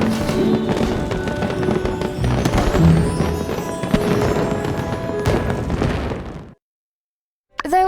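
Fireworks burst in the life-sim game My Time at Sandrock, a dense run of crackling pops and booms layered over music, then a sudden silence before a brief return.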